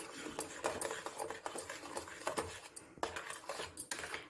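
A spoon stirs apple halwa in a pan, giving quick irregular scrapes and metallic clinks against the pan close by for a few seconds, with no voices.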